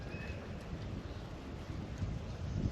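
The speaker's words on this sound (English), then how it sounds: "Big wind." Strong wind at a desert rifle range, a faint steady broadband rumble of gusts buffeting the microphone that swells slightly toward the end, with no other distinct sounds.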